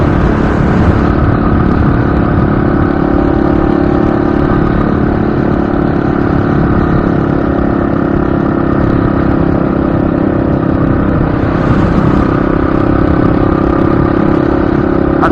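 A motorcycle rides along at steady speed, its engine a loud, constant drone layered with road and wind noise close to the microphone, unbroken throughout and with no voices.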